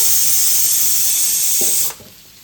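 Chopped onions and tomatoes fry together in oil with a loud, steady hiss that cuts off abruptly near the end, leaving only quiet background.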